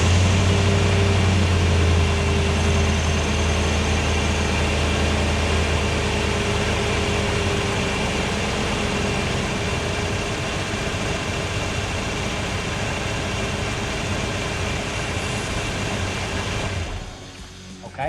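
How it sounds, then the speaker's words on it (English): A Ford Mustang 5.0 engine idles steadily and close for most of the stretch, a constant low rumble that drops away abruptly near the end as it is shut off. "we're going to crank the engine and let it run for about 30 seconds"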